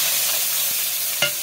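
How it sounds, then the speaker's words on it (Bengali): Finely chopped onions fry in a pan with an even, hissing sizzle and a single sharp utensil knock near the end, close by and with no voices. "পেঁয়াজগুলো লাল লাল করে ভেজে নেব।"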